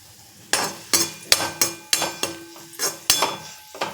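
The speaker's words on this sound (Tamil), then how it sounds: "இதை நம்ம அந்த எண்ணெயில் போட்டுடலாம். போட்டு அதையும் நல்லா வறுத்துடலாம்." Small tamarind pieces being stirred while roasting in oil, heard as a brisk series of sharp spoon-on-pan clinks and scrapes, roughly two per second, over a faint sizzle, without any voice.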